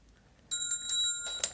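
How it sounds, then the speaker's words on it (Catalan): A small bell rings several quick, bright dings in a row, close and clear, with a sharper final strike against a quiet background. "Toca la campaneta."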